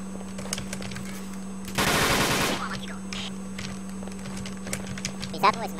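A burst of rapid automatic gunfire from the online shooter Ballistic rings out once, loud and close for under a second, amid quieter scattered game sounds and talking.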